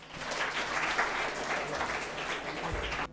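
An audience at a Tamil stage event breaks into sustained applause, a thick, even wash of clapping that holds steady for several seconds with faint voices beneath.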